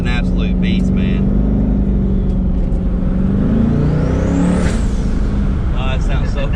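A twin-turbo Coyote V8 in an S550 Mustang roars steadily as it accelerates, a loud, continuous engine drone with a rising whine, heard from inside the car while a voice talks over it.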